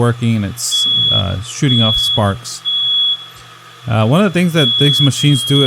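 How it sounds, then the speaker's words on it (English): Smoke alarms set off by smoke from an Artfox Sparkx cold spark machine, a steady high electronic tone beeping over and over while someone talks nearby. "so you can actually hear my alarms going off"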